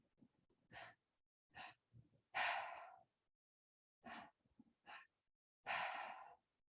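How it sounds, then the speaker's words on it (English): Breathwork session with two rounds of deep breathing: two short sharp inhales followed by one long, forceful exhale, each round clearly separated by silence, close and breathy. "And inhale, inhale, exhale. Belly, chest, exhale."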